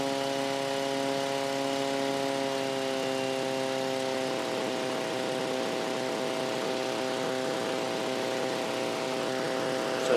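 Light aircraft engine running steadily in flight, a continuous droning hum with strong harmonic tones holding even throughout, shifting slightly in pitch partway through, with no voices.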